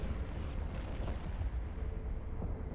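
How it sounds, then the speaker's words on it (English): Big flashy explosions and weapon fire from the space battle video game Eve Online, a dense continuous roar of rumbling booms and crackling bursts with no talk over it. "It's big shiny explosions."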